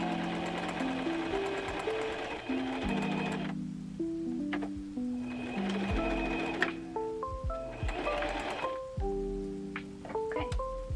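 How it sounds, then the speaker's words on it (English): A sewing machine stitches a bag seam in continuous near whirring bursts with rhythmic needle thumps and brief pauses and speed changes, with no talk over it. "I only have to sew till here"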